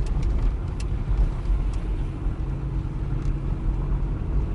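A 1996 Mazda MPV with its steering wheel pulling to the left rolls out of a parking lot, a steady loud low rumble of engine and tyres with a few faint light ticks on top and no voices.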